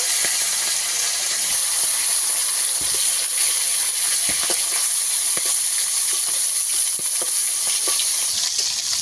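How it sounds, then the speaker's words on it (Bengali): The remaining pond tilapia pieces fry in hot oil with a continuous dense sizzle and hiss, steady and close with small pops and crackles throughout and no voices. "আবারও বাকি মাছগুলো একইভাবে ভেজে নেব।"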